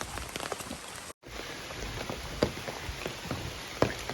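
On the Appalachian Trail, steady patter of rain dripping from trees with scattered heavier drops landing nearby, a brief silent gap early on, then continuous dripping with a couple of louder splats.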